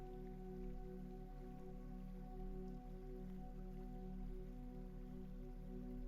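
Steady rain patters against window glass, a constant soft drumming with a low hum underneath, heard alone without voices.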